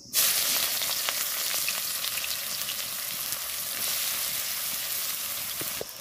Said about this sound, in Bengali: কড়াইতে তেল গরম হয়ে গেছে, আমি পেঁয়াজটা দিয়ে দেব